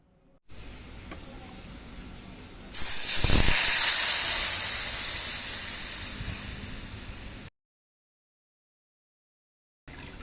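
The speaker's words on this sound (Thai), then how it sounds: "ใส่กะทิเลยครับสุดยอดครับ" Coconut milk poured into a hot pot for a Thai pork and winter melon curry bursts into a loud, sudden hiss that holds steady for several seconds before cutting off.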